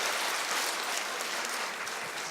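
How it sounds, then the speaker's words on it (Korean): Audience applause after a lecture at a church finance seminar, a dense, steady wash of many hands clapping that holds at full level throughout, with no voices over it. "정말 유익한 강의를 해주신 우리 장경미 국장님에게 다시 한번 큰 박수로 감사의 표를 하겠습니다"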